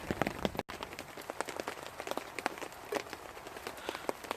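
Steady rain patters on a bushcraft camp tarp, with dense close drops and scattered louder splats forming a continuous wash, plus one brief dropout near the start.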